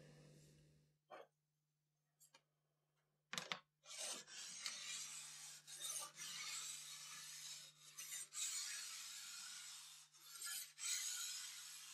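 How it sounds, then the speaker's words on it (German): A hand file rasps along damaged ski edges during edge preparation of alpine skis, first a few isolated scrapes, then steady repeated close filing strokes with short breaks, over a faint low hum. "Größere Beschädigungen müssen mit der Feile behoben."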